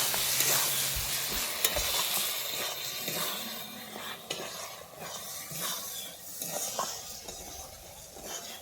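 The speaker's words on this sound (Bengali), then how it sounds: "গরম মশলা গুঁড়োটা দিয়ে আমি আরেকটু ভালোভাবে মিশিয়ে নিচ্ছি" A spoon stirs ash gourd curry with garam masala in a pan, with soft scraping and occasional clinks over a low sizzle, fairly quiet and without talk.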